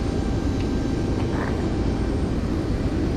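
An airplane at Nairobi airport gives off a steady, broad engine roar that holds evenly throughout at moderate loudness, with no voices.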